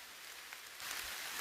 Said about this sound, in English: We're getting run out of the woods again because of rain